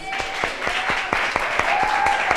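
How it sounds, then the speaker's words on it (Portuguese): A church congregation at a missions and evangelism service claps for the Lord in a brisk, regular rhythm, about four loud claps per second, with a sustained voice-like tone faintly underneath. "Uma salva de palmas ao Senhor."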